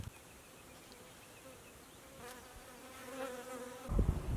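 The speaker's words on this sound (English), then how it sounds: "you will actually strangely have a bunch of bees flying around your house" Bees buzz faintly at first, with a low droning hum that grows louder as insects fly close near the end.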